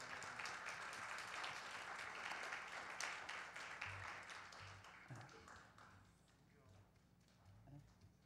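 Scattered clapping from a church congregation during a Sunday worship service, brisk at first and then thinning out as it fades, with people talking underneath.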